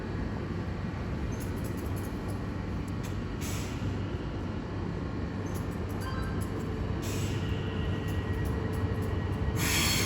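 A London Overground train pulls away from a London terminus toward Chingford, a steady low rolling rumble with intermittent high brake hiss and wheel squeal bursts.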